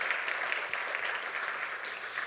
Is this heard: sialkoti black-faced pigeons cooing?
no